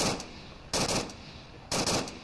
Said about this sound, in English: Mano firing some shots on the North-South Marsoc buildings, trying to shoot at Ryan